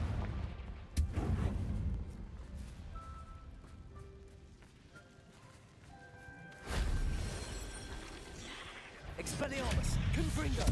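Confringo fire spell cast in Hogwarts Legacy, a video game: a sharp blasting impact early on, then a second louder explosive burst that rings out with crackling debris, amid game sounds and a speaking voice.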